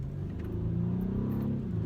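A BMW sports sedan's engine growls at a steady, low rumble close by for about two seconds, with no talk over it.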